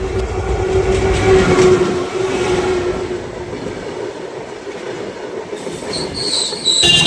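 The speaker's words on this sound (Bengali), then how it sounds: "আর তিন চার সেকেন্ডের ভিতরে আমাদের সামান দিয়ে ট্রেনটি চলে আসবে" A long freight train of 102 wagons rolls past close by, a steady loud rumble of rail cars with squealing wheels and metallic clatter that carries on throughout without any voices.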